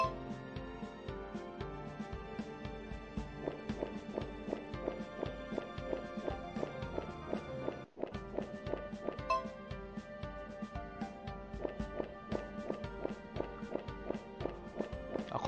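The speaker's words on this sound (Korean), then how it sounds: "걷는 소리 신박하다." Footsteps tread in a steady, even rhythm in Mystic Guardian, a retro action RPG mobile game. The light, clip-clop-like taps continue over game music with one brief pause midway.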